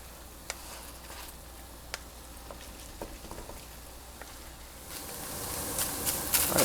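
Ground beef frying in a pan, a quiet steady sizzle with scattered small pops and ticks, swelling louder toward the end as if stirred.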